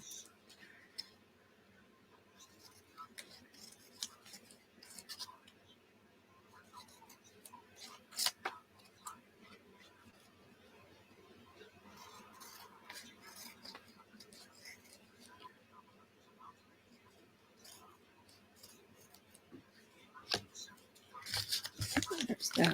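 Scissors snip pieces out of paper or card, giving scattered light clicks and cuts under soft whispered talk, with rustling handling that grows louder toward the end.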